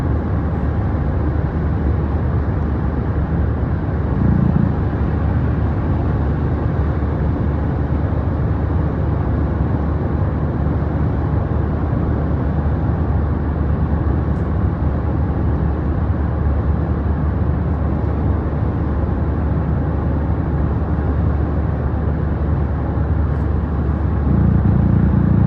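Steady road rumble and engine hum from inside a moving car, loud and continuous with no clear breaks, heard without any speech.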